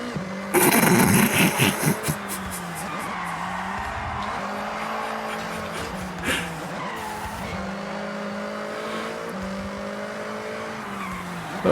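Forza Horizon racing game car with a loud engine note and tires skidding and squealing, a burst of screeching early on, then a steady engine drone with shifting revs throughout.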